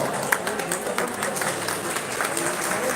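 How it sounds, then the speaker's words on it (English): Applause in a judo hall during a karate championship award ceremony, a continuous busy clatter of clapping with a voice talking over it. "Please give a big round of applause for them."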